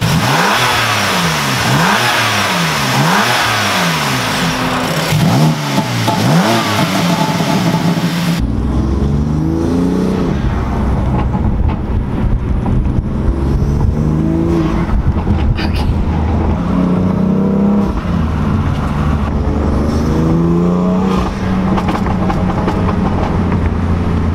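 A BMW M3 fitted with new intakes revs loudly and up close, with repeated rising and falling engine sweeps at first, then a rougher, lower engine tone with turbo whooshes and further throttle blips.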